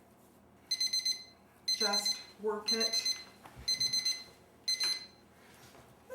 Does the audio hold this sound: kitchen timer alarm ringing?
yes